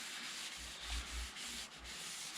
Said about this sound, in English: Just get some sanding sealer on there